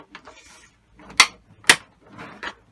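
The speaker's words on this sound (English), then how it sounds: "we're going to get the screwdriver into here and flip it open all the way along here" Flathead screwdriver prying apart the plastic casing of an Xbox One console, producing a few sharp close clicks and snaps as the clips release, with faint scraping and handling between them.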